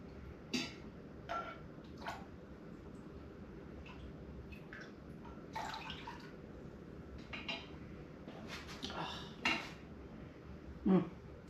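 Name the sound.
ladling hot apple cider with a ladle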